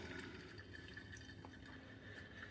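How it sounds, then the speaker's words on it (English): Faint trickling and dripping as vinegar drains out of the bottom of a coffee maker into its tank, a quiet steady watery run with soft drips. "you can already hear it running out of the bottom"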